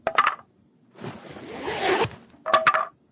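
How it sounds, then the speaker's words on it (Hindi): Bag opening in the video game Survive the Wild: a short rustling swish between two brief bright chiming tones, each sounding alone and close. "You have just opened your bag."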